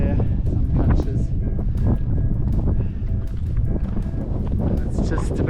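Wind buffets the microphone in continuous gusts on the Mt Ben Lomond trail near Queenstown, New Zealand, on a near-freezing day, forming a dense, rough roar with scattered knocks.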